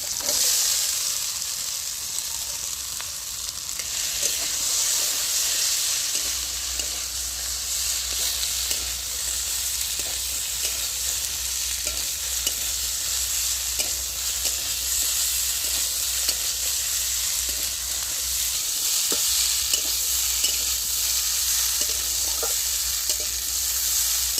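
Jackfruit seeds frying in a pan with poppy seeds, a continuous close sizzle under scattered light scrapes and taps of a stirring utensil, no talking.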